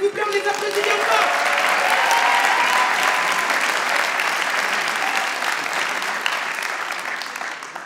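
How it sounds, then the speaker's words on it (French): Loud, sustained applause from a large audience at an evening event in Lille, steady clapping that fills the space and slowly tapers off toward the end. "on les applaudit bien fort"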